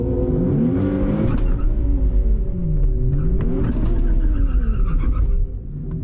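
A tuned Nissan Z revs hard at a drag strip, engine pitch sweeping up and down through several rising and falling surges with some tire noise, loud and close, ending in a quieter tail.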